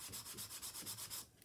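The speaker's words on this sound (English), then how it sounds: "give it a good burnish with my bone folder" Card stock being burnished with a bone folder, a rapid run of about ten rhythmic rubbing strokes, close and clear, then stopping.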